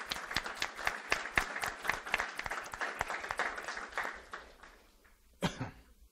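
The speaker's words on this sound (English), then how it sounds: "I think they deserve a big round of applause." Audience applause after a talk about Uyghur experiences, many hands clapping in a dense, steady burst that thins and fades, with a cough or two near the end.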